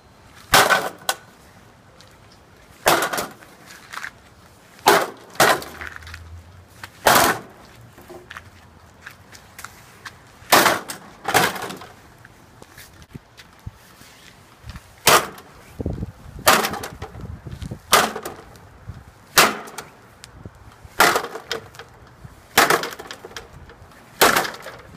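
A computer being smashed apart: sharp, loud cracking and splintering impacts in irregular bursts, some single blows and some quick pairs, spread throughout with no talking.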